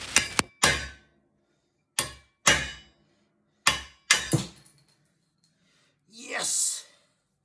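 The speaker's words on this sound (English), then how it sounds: "I have to hammer out the remains of the ball joint / bolt" Sharp hammer blows knock out the remains of a rear suspension ball joint bolt on a Rover 75/MG ZT, several separate metallic clangs with pauses between them, followed by a heavy exhale.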